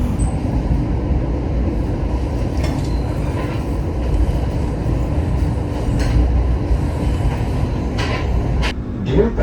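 Aboard the Manahan executive overnight train from Solo, nearing Gambir Station in Jakarta, a steady, loud rumble of wheels and carriage fills the cabin, broken by occasional light clanks and a few brief squeals.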